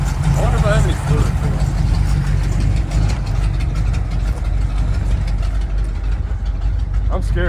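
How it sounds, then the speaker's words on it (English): A cheap Ford Mustang drift car project idles outdoors, its engine giving a steady, rough rumble throughout while people talk over it. "I'm scared to leave it idling out there like that."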